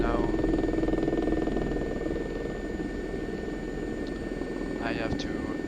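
A Gazelle SA342 helicopter flies a Gendarmerie operation over the glaciers near Chamonix, heard from inside as a steady, droning engine and rotor hum, with someone talking over it.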